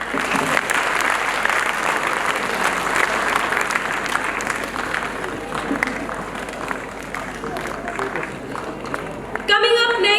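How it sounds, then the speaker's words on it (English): Audience applause fills an annual day award ceremony hall, a dense sustained clapping from a large crowd that carries on for about nine seconds before fading as a voice briefly starts. "Please extend your warm applause."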